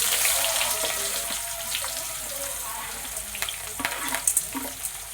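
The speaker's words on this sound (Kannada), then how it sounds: "ನೋಡ್ರಿ, ಇವಾಗ ಚಟಪಟ ಅಂತ ಇರುತ್ತೆ." Onions added to hot oil with dried red chilies and chana dal fry in a continuous close sizzle, with sharp crackles and pops growing busier toward the end.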